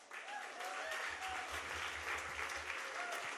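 A live cabaret audience at Joe's Pub applauds steadily, dense clapping filling the room with a few cheers rising out of it, sustained and fairly loud.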